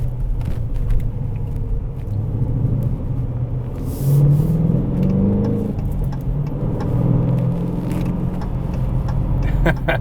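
A 2021 Dodge Challenger R/T pulls hard on the highway, its deep engine rumble swelling in a rising surge midway and staying heavy and close throughout, with road noise underneath.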